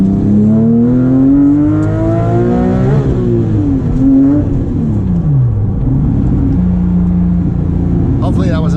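Naturally aspirated Porsche 997.2 GT3 RS engine and exhaust accelerating through the gears toward its 8,400 RPM redline, rising rasping howls broken by shifts, heard loud from inside the car.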